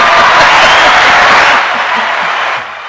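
A sold-out crowd roars and cheers in a dense, loud wash of voices, holding steady before easing off toward the end.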